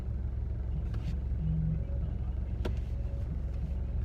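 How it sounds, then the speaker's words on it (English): A car passes on a road at night with no headlights on, heard as a steady, low rumbling drone from inside another vehicle, moderately faint with no voices. "there's a vehicle driving with no headlights on"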